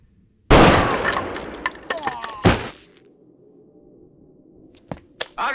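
Gunfire in a tense Hindi film standoff from Sholay: a loud, dense burst of sharp cracks and shots lasting about two seconds, then a quieter stretch with a few isolated sharp impacts.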